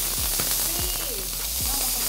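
Strips of bacon sizzle and crackle in a hot frying pan, a steady close hiss running throughout with faint low sounds beneath.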